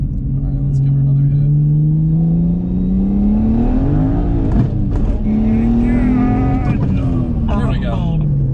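A single-turbo BMW 335i accelerating hard on new tires, engine note climbing loudly through gears with brief drops at shifts, close and aggressive, with voices talking over it.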